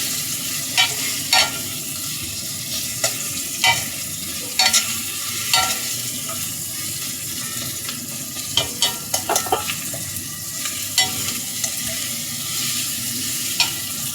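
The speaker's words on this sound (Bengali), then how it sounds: "আদা এবং রসুন বাটা দিয়ে আমি পেঁয়াজটাকেও আদা রসুনকেও ভেজে নেব।" Onion frying with ginger and garlic paste for a beef curry, stirred steadily: a continuous close sizzle with regular sharp scrapes and clinks of a spoon against the pan, no voices.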